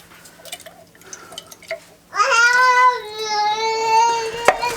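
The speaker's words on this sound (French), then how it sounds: "je vais juste mettre un peu d'eau dans le fond pour récupérer le fond de la boîte" Water poured into an emptied tin can of tomato pulp, a brief splash followed by a sustained, ringing gurgle whose pitch shifts as the can fills, close and fairly loud after a few quiet knocks.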